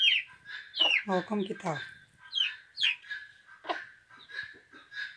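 A hen clucks among her chicks inside a henhouse, close and repeated in short bursts with high peeping from the chicks, while a person speaks briefly over the birds.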